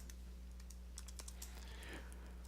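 Fingers type a command on a computer keyboard at a Linux command line, a quick run of light, close clicks over a steady low electrical hum.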